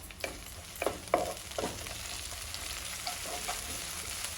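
Mint and coriander leaves frying in oil in a pan for mutton pulao, a low steady sizzle with several quick stirring scrapes early on, fairly quiet and close.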